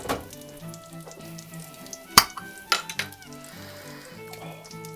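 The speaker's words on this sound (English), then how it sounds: "you can see the fish fingers are sizzling away rather nicely" Fish fingers frying in a pan, a soft continuous sizzle beneath clinks of utensils and pans, with a couple of sharper metallic knocks in a cramped home kitchen.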